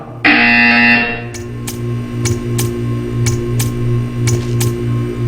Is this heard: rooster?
no